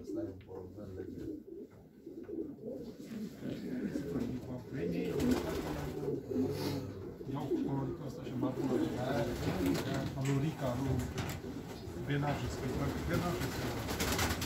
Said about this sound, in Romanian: Asta e un porumbel legendă.